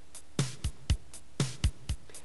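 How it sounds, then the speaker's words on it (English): Programmed PowerTracks 6 drum pattern with bass drum, snare and a hi-hat on each note, a steady looping beat of sharp hits with light ticking in between, heard alone. "So now we can put in a hi-hat on each note using this bottom row of the keyboard"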